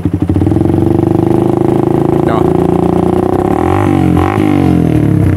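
A 2007 Suzuki Satria FU 150 motorcycle, modified for road racing with an aftermarket exhaust, idles and revs loudly up close, its engine and exhaust holding a steady throbbing note with slight rises in pitch.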